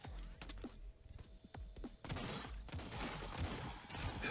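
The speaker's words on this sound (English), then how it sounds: "So it does slow bullets and a fast barrage." In the Autogun Heroes game, a big UFO boss fires a bullet barrage: rapid, dense volleys of quiet synthetic shots and thumps that thicken into a constant stream in the second half.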